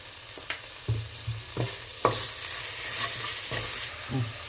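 Vegetables for a coconut vegetable pulao being stirred and fried in oil in a pressure cooker, with a steady low sizzle and repeated scraping strokes of a spoon against the pot, close and fairly loud.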